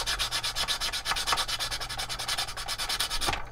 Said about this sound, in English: which is why I'm using a fine file